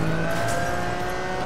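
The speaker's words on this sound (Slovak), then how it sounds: "Typické Lamborghini v závodných hrách, to pozná úplne každý" A Lamborghini engine in a racing video game holds a steady, loud, buzzing high-revving drone with constant pitch for the whole stretch, alone without talk.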